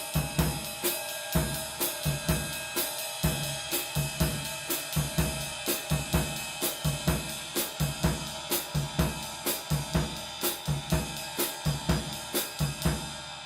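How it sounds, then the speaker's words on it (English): A Bossa Nova groove plays on a drum kit, with a steady straight sixteenth-note ride cymbal pattern over bass drum kicks and hi-hat, even and close, with no talking. "So the ride pattern, bass drum, and hi-hat together sound like this."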